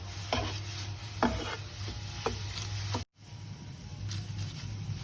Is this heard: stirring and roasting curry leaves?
yes